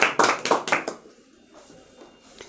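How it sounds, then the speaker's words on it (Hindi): Students applauding in a classroom quiz, a burst of several quick claps close by for about a second, then fading to quiet room noise. "अरे ताली बजाइए जोर से"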